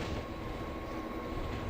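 Train switching tracks in a video game, a steady loud rolling rumble with a faint sustained tonal hum, no voices.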